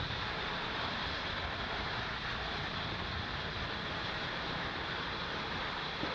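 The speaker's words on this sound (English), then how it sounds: "Falcon 9 has successfully lifted off from Space Launch Complex 40 at 8:50 a.m." SpaceX Falcon 9 rocket engines in flight after liftoff from Space Launch Complex 40, heard as a steady, loud, broadband roar that holds at an even level throughout, with no speech.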